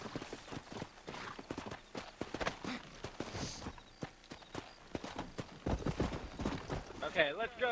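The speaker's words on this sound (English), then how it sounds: "Oh, I found a horse." Horse hooves clip-clop steadily in the Red Dead Redemption video game, a moderately quiet rhythmic patter running beneath continuous talking.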